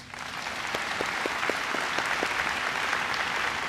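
Crowd at a high school graduation ceremony gives steady, full applause for graduates, a dense even wash of many hands clapping with a few distinct nearby claps standing out.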